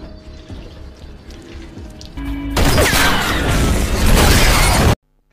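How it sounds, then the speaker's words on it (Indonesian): In a film scene, a car with gasoline run underneath it is shot at a gas station and explodes. Low ambience breaks into a sudden, very loud roaring blast that sustains for a couple of seconds, then cuts off abruptly. "kemudian menembaknya hingga meledak"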